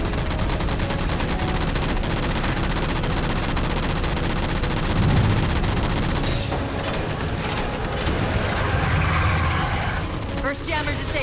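Sustained automatic weapon fire in Halo 4 as jammers are shot down, dense continuous rattling shots with booming impacts over a loud combat soundscape.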